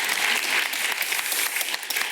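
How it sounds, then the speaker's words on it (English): Audience applause at the NHS Clinical Entrepreneur Programme Big Pitch 2023 event in London, a dense steady wash of many hands clapping, loud and continuous throughout with no break. "Big round of applause."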